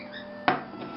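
A giant, heavy skillet set down for cooking quinoa gives a single sharp metallic knock midway, over a steady low kitchen hum.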